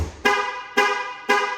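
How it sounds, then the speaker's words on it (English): A Jeep Grand Cherokee 4xe gives three short, evenly spaced horn toots, loud and close, each a bright chirp of about a third of a second. "So this automatically honks when your keys are in your pocket, like mine."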